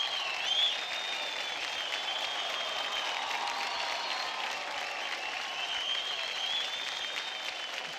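A studio audience at a televised dance competition claps steadily and loudly throughout, a dense, even wash of applause with faint crowd noise and no break.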